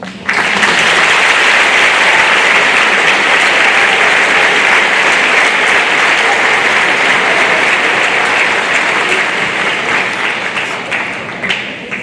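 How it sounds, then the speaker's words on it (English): Sustained crowd applause at a high school class day awards ceremony, loud, dense clapping that holds steady for about eleven seconds before tapering slightly at the end. "Give you an applause"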